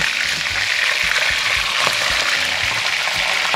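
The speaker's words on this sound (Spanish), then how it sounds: "Y estamos echándolo acá para que se fría nuestro cuy." Steady crackling sizzle of a guinea pig frying in hot oil, continuous and close, with faint scattered pops throughout.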